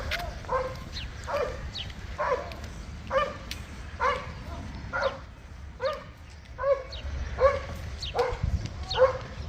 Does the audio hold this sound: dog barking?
yes